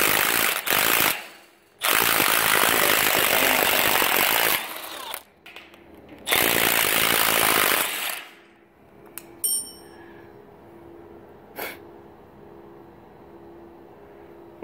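A hammer drill boring a hole for an anchor bolt, loud close bursts of harsh rattling drilling in three stretches separated by pauses, then quiet with a few small clanks.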